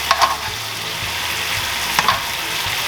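Meat sizzles steadily while frying in a pan, a loud continuous crackle with two quick stirring scrapes near the start and end.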